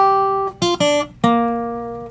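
A short delta blues guitar riff played without the thumbed bass line: a few sharp plucked notes in two quick bursts that ring out and decay, close and clear with no voices.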